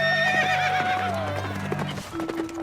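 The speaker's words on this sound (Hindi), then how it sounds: "बसंती तांगा हाँकने लगती है" Horse pulling a tonga cart on the road to a village, a mare neighing loudly up close, then a few light clip-clopping hoofbeats as the cart sets off.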